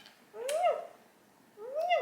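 A 10-week-old kitten meowing twice, each a short rising-then-falling call, close and clear with a quiet pause between them.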